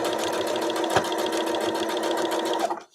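A household sewing machine stitches along a fabric seam with the seam edge guided against the presser foot, a steady fast mechanical whir with rapid needle clatter running continuously for nearly three seconds, then stopping abruptly.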